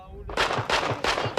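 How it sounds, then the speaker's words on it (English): Shots fired into the air near a village in Albania during the 1997 unrest: a rapid run of four sharp bangs, coming just after a brief voice. "They fired shots in the air, they said, because they knew the soldiers were listening to them."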